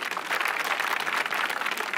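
Audience applause at a comedy stage show: dense, steady clapping from a large crowd, loud and continuous throughout with no voices on top.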